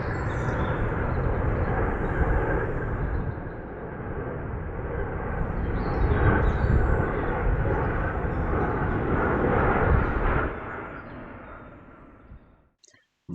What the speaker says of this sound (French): il y a un avion qui passe juste à côté